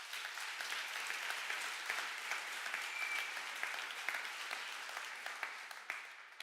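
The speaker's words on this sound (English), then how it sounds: "And also Benny and Petra, a big applause for them" An audience at the HackZurich 2022 hackathon opening ceremony applauds event volunteers: dense, even clapping from a large crowd heard from a little distance. It holds steady and thins slightly toward the end.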